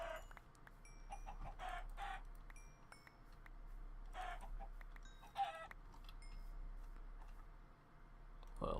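Minecraft chickens cluck in short scattered bursts inside a modded Feed The Beast game world, soft and intermittent over a faint steady hum, with no voices.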